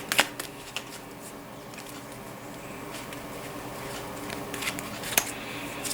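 Tarot cards are shuffled and pulled from the deck up close, a soft continuous riffling with a few sharper slaps and flicks as cards are drawn, no voices.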